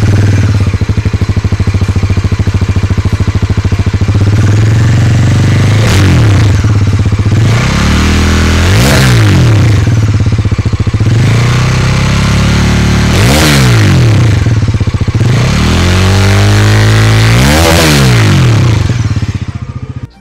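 A Bajaj Pulsar NS400Z motorcycle with an underbelly exhaust idles close by and is revved hard four times in regular bursts. Each rev climbs and falls back to a loud, steady idle.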